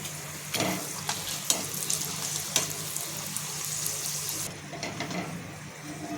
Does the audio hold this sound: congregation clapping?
no